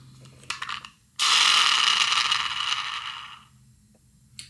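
A toy slot machine spins its reels, a brief clicking burst, then a loud whirring, ratcheting mechanical rush lasting about two seconds before it stops, heard up close with no talking.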